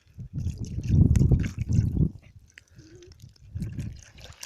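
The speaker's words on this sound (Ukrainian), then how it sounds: "Зараз налию крові." Blood poured into a cut-off plastic bottle for laying a tracking trail, a near trickle and gurgle of liquid that comes in two short bursts with a small pause between them.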